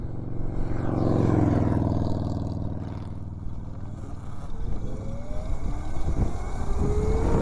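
An electric mini bike fitted with an Electro and Co kit makes a top speed run, its motor whine climbing in pitch over rushing wind and rattling, loud and close throughout.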